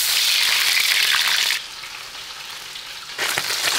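Small fish sizzling and frying in hot oil in a pan at home, a loud bright crackle that drops away briefly in the middle and then returns just as strong.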